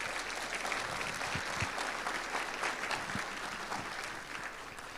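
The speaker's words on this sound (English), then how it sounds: "give them a round of applause for the work that they did" A school audience gives a round of applause for the students' work, a steady dense wash of many hands clapping at once, fairly loud and continuous, with no talking over it.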